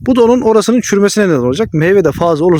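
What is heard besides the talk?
None of the usual background noises is heard.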